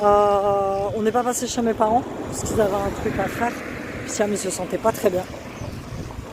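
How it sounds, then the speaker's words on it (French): Wind buffets the microphone with low rumbling gusts while a person speaks over it. "il y a du vent. Fatalement, tu vas l'entendre."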